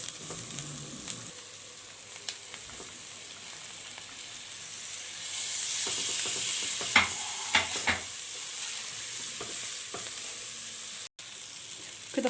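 Mixed vegetables stir-frying in a hot pan, a steady sizzle with repeated scraping stirs and utensil knocks, close and continuous with no talking.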